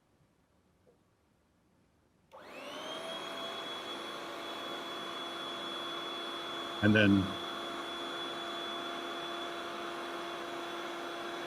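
Electric pump of a self-inflatable mattress on a timer in a gallery space switches on after a quiet start and runs as a steady whining motor hum, with a brief louder bump partway through and a short spoken phrase early on.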